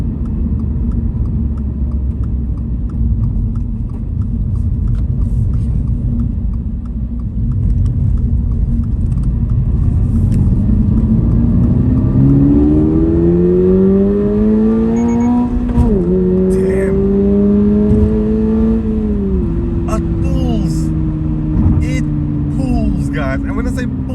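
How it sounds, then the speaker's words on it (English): A Toyota GR86 with a 2.4-liter flat-four engine accelerates hard, its engine rumbling under heavy road noise and then rising through several climbing pitch sweeps between gear changes, loud and sustained from inside the car. "this engine pulls so freaking hard"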